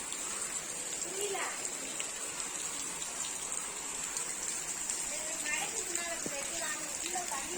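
Heavy rain pours down steadily in a village, a dense, unbroken hiss of falling water close by, with a voice faintly audible beneath it.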